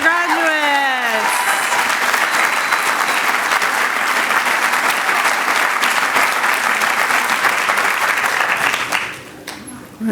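A large audience breaks into sustained, loud applause for graduates at a physician assistant certificate ceremony, with a voice briefly audible at the start before steady clapping fills the hall and then tapers off near the end.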